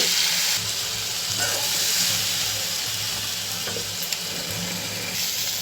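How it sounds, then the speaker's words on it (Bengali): Eggplant slices frying in hot oil for Bengali eggplant dolma give a steady, close, loud sizzle and hiss that runs unbroken throughout, with a few faint clicks and pops. "বেগুনের দোলমা রান্না করার জন্য আমি হচ্ছে এগুলি ভেজে নিচ্ছি"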